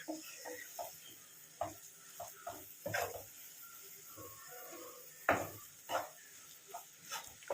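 Coconut and jaggery mixture being stirred in a pan for kamarkat, soft scraping strokes of a spoon against the pan in an irregular rhythm over a faint sizzle, with a few louder scrapes.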